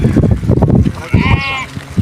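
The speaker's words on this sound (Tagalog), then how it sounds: "Mga tupa sa Saudi guys." Sheep on a farm in Saudi Arabia bleat loudly and close by, overlapping calls from a crowded flock with a wavering cry rising clearly above the rest.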